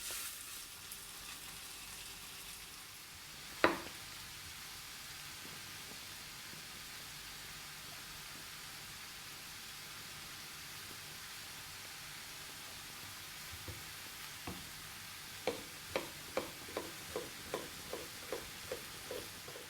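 Sausage patties fry in vegetable oil in a pan, giving a steady quiet sizzle throughout, with one sharp clack early on and a run of rhythmic light taps near the end.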